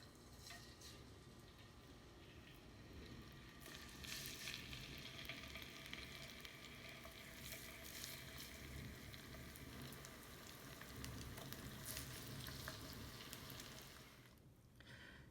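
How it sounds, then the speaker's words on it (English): Pork slices fry in a very hot pan for ginger pork, a steady, fairly quiet crackling sizzle that swells slightly as the meat is moved, with occasional soft stirring knocks. "make sure that your pan is really hot. It is hot, but I want to make sure. And we are going to add pork a little bit"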